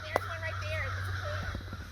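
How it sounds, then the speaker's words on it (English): Several crows caw repeatedly in harsh, drawn calls while harassing a hawk near pine trees, moderately close outdoors with a steady low hum underneath and a brief tap early on. "Actually, the crows are after a hawk over here."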